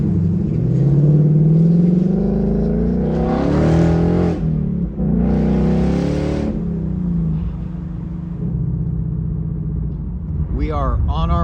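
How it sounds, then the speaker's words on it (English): A Ford Mustang GT convertible in Sport Plus mode rumbles steadily from inside the car, surging in two loud revving bursts midway, while someone talks over the engine. "let's put it in Sport Plus mode so you can"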